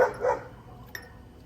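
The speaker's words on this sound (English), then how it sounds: "That's my dog. He heard a chicken." One short dog bark at the start, fairly faint and a little distant, followed by quiet.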